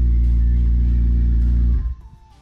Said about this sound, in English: his car sounds awesome. He just got he has Soul Sport Cats on it.